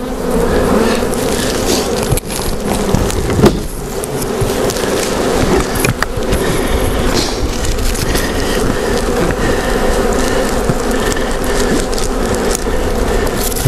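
A swarm of bees is moved into a skep, producing a dense, continuous close buzz of many insects, with occasional knocks and rustles of handling over the steady hum.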